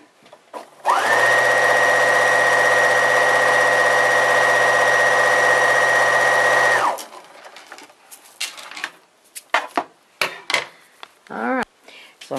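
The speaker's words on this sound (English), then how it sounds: "So I'm going to sew this on right here." A sewing machine stitches fabric pieces together in one continuous, loud, even whir that lasts about six seconds and stops abruptly. Scattered handling clicks and a brief voice follow.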